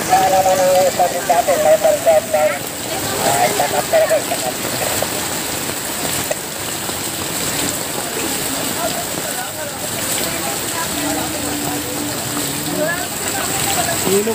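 Heavy rain hisses steadily throughout street flooding in the Parañaque area, with waist-deep water and stalled motorcycles and cars, while voices talk over the downpour.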